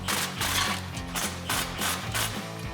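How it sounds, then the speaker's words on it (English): A ratchet tightens 13mm exhaust clamp nuts on a Ford F-150, giving a steady run of close, rapid pawl clicks in repeated back-and-forth strokes, each burst of ratcheting separated by brief pauses. "Now we're gonna tighten these both down. It's a 13mm head and 13mm nut."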